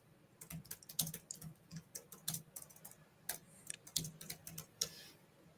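Rapid, uneven keystrokes on a computer keyboard, a brisk run of close, crisp clicks with short pauses, alone without talk.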